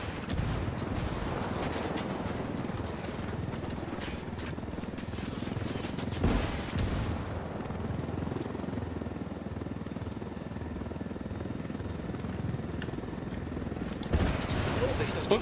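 In the video game Ghost Recon Wildlands, a helicopter fires its guns in dense bursts over a constant rotor drone, with someone talking over the noise throughout.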